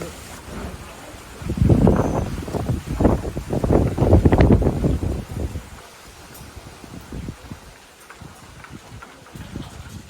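Cyclone wind gusts roar and rumble close to the microphone, swelling strongly then easing, with a rushing rain-like hiss underneath.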